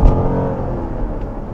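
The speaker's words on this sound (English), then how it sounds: "you can hear that engine right now." Dodge Durango SRT 392 V8 engine accelerating, a steady loud low rumble that swells slightly as the throttle opens, heard close from inside the vehicle with no talk.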